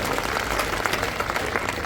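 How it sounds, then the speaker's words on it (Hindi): An assembled audience claps for teachers at a ceremony unveiling a Swami Vivekananda statue and opening a garden. The applause is dense and continuous, fairly loud and close, with no talk over it. "हमारे अध्यापकों के लिए ताली बजा के उसका उत्साह बनता है।"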